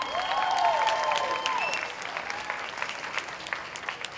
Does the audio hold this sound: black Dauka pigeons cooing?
no